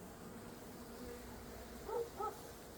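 Honeybees inside a winter hive covered with a plastic bag give off a faint, steady low hum, with a couple of brief, slightly louder buzzes near the end.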